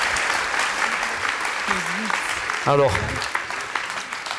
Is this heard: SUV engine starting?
no